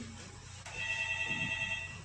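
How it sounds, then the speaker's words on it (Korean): A telephone rings during a church sermon, a faint electronic trill held for about a second against a low room background, heard quietly and from a distance with no speech over it. "전화 왔다 누가."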